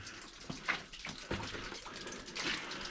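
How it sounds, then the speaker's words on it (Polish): Water drips and trickles steadily inside an underground mine adit, a broad wet wash with a few brief louder splashes, heard alone without talk. "I tutaj woda trochę kapie, a nawet leci."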